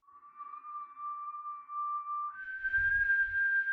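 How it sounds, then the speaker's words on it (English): A clear, steady whistled tone holds one pitch, then jumps higher and continues, with a faint low rumble near the end. "Let's return to the whistling."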